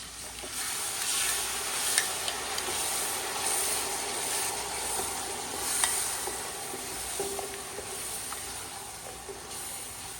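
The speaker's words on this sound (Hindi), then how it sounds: "अभी हम सारे मसाले भून कर रहे हैं" Ground tomatoes and spices frying on high heat for beef korma, a continuous close sizzle and hiss with occasional stirring scrapes and clinks, no talking.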